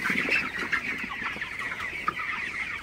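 Twenty-two-day-old broiler chickens in a poultry shed at night, producing a continuous, even chorus of soft clucks and chirps from many birds, heard alone at moderate distance.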